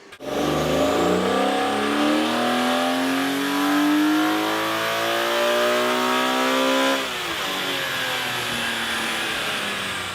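A BMW G80 M3 with the S58 turbocharged inline-six revs hard and close, pitch climbing steadily for several seconds before dropping off sharply and easing back down, loud and alone.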